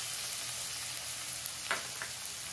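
Garlic and green chili paste frying in a pan, a soft steady sizzle close by with a couple of faint stirring clinks, no voices.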